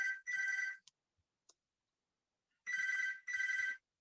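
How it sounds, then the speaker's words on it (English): A telephone rings in four bursts, two close together at the start and two more after a long pause, each an electronic warbling trill with a brief faint blip between; no voices are heard. "there's my mum phoning. I'll have to ignore that. I forgot to turn the phone off."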